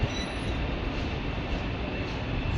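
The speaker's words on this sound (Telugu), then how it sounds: "ఇది bullet train China bullet train" A Chinese bullet train at Yuhaobei railway station, a steady loud rumble and whoosh of the train filling the short span, with station noise around.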